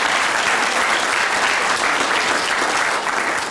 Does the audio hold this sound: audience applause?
yes